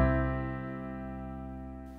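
One consonant jazz chord, the same voicing with the clash removed, sounds alone and rings smoothly, sustaining and gently decaying for about two seconds.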